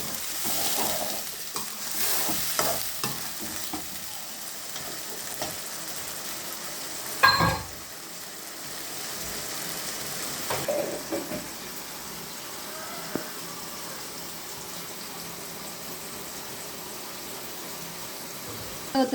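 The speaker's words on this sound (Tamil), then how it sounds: "தக்காளி அரைச்சி தக்காளி பேஸ்ட் போடணும். இதையும் சேர்த்து நல்லா வதக்கணும்." Tomato paste fries in a hot pan while a spoon stirs it, giving a close steady sizzle with scraping strokes and one sharper clatter partway through.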